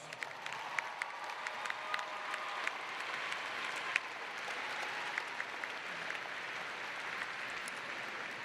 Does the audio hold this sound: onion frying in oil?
no